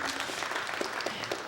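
An audience at a Berkeley energy policy symposium keynote applauds, a steady dense patter of many hands clapping, moderately loud and continuous.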